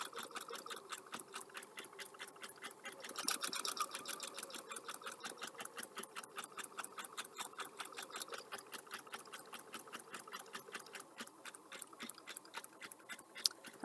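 An air compressor cycles on and off with a faint, rapid, rhythmic chugging that pulses steadily in the background throughout, quiet and mechanical, with no talking.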